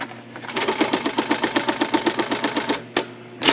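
IBM Selectric 1 electric typewriter, model 721 with 11-inch carriage and fabric ribbon, reconditioned, switched on and running: a steady, rapid mechanical chatter with even rhythmic pulses close by, then a brief pause and a sharp clunk.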